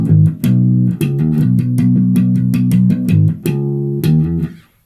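Electric bass plays the New Every Morning bass line as a steady run of plucked notes moving between pitches, loud and close, with no talk, ringing out at the end.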